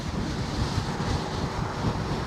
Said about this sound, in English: this officially is some of the windiest conditions I've ever ridden in